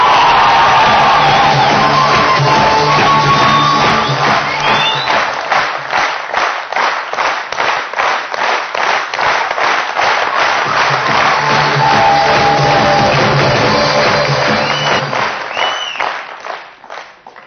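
Audience applause and cheering at a business leadership talk in Surat, a dense roar of clapping that swells into rhythmic beats mid-way, with scattered whoops, then fades out toward the end.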